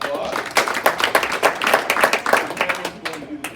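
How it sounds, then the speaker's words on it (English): Applause breaks out after a black belt martial arts demonstration, a few seconds of irregular hand claps from a small group, loud and close, with voices mixed in. "All right, round of applause."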